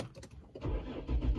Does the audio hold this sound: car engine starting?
yes